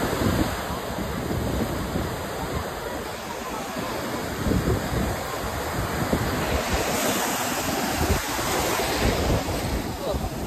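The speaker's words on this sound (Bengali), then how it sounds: "ঢেউটা আসতে দেখো।" Ocean waves break on Puri beach with a loud, continuous surging roar and rushing water, close by, with heavy wind buffeting the microphone throughout.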